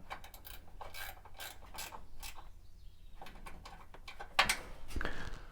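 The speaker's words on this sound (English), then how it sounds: "and then I can do up that 10mm nut" Ratchet wrench tightening a 10mm nut on a Mitsubishi Fuso FG truck with a 4P10 engine, rapid clicking bursts in short rhythmic strokes, close up, with a few metallic knocks near the end.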